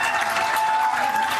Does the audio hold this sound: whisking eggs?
no